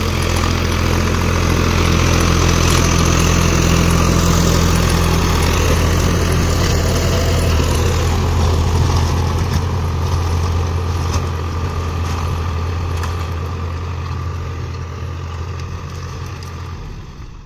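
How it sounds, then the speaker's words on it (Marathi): A tractor engine drones steadily at close range, a constant low rumble that slowly fades toward the end. "आवाज जात नाही ट्रॅक्टरचा आवाज"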